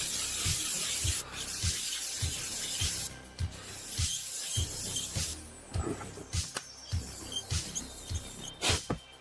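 Fine-grit sandpaper rubbing over miniature terrain, a soft close scratchy hiss in short repeated strokes with brief pauses, faint and steady.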